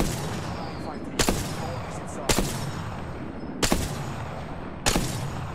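Gunfire in the game Apex Legends: four sharp, loud shots spaced about a second apart over a dense, noisy game backdrop, with no voices.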